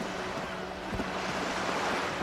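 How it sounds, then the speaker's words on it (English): Steady ocean surf washes in the video game Disco Elysium near a seaside pier, a constant broadband roar with faint wind and no distinct breaks. "Are the waves too loud?"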